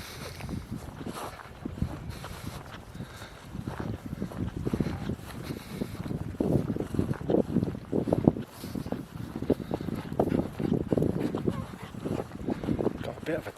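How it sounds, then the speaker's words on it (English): Gusty wind on the sea cliffs at Berry Head rumbles and buffets the microphone in uneven bursts, loud and close, with what sounds like a voice partly buried beneath it. "A bit windy today."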